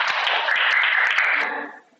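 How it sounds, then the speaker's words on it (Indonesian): A short burst of students clapping in a classroom, quick patterned claps with a few voices mixed in, stopping abruptly after under two seconds. "Oke, tepuk tangan semuanya."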